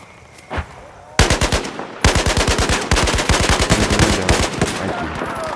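RPK machine gun fire in a video game: a lone early shot, then long rapid bursts of loud, close automatic fire with brief gaps between strings, no talking.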